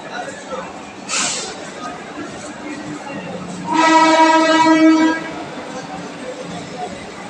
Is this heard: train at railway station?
yes